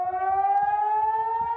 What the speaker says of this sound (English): Air raid sirens blare as rockets soar over the Israeli-occupied Golan Heights.